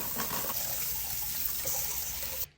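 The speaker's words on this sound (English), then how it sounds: "I'm gonna wash and cut up these cherry tomatoes." A tap runs while cherry tomatoes are washed at a sink, giving a steady, moderately quiet stream of water with small splashes. It cuts off sharply just before the end.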